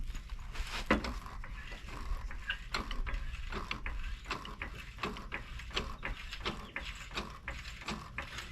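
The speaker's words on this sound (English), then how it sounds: "So I'm gonna go ahead and jack the vehicle up" A car jack lifting a vehicle during a flat tire change produces repeated metallic ratcheting clicks and creaks in an irregular rhythm, close by, over a low background rumble.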